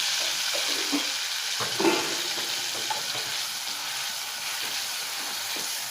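Onions frying in mustard oil left over from frying paneer, a steady hissing sizzle close by with a few soft stirring knocks, no talking.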